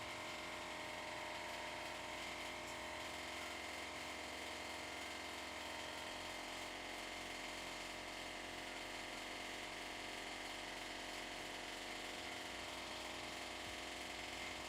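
A motorized paint shaker rattles a bottle of miniature paint in a constant, dense mechanical buzz and clatter that holds steady throughout, with no talking.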